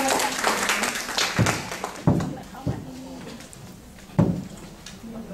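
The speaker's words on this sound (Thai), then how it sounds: "ขอเสียงปรบมือต้อนรับด้วยะ" An audience applauds to welcome a speaker: dense clapping at the start fades to scattered claps, with a few louder thuds standing out and a voice partly audible underneath.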